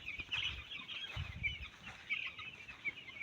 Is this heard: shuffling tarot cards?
no